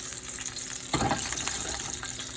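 Hot fat sizzling in a pan for pan-roasted piri chicken, a steady frying hiss that swells with a sudden louder crackle partway through, close and continuous with no talk.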